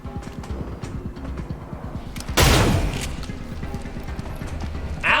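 Shotgun fire in the game XCOM: Chimera Squad: one sudden loud, close blast that decays over about half a second, set against steady rhythmic clopping footsteps, with a second sharp burst at the very end.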